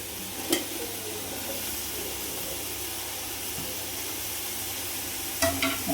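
Tomatoes sauté in a hot pan for mushroom biryani, a continuous soft sizzle and hiss with a couple of brief stirring clinks near the start and end, no talking.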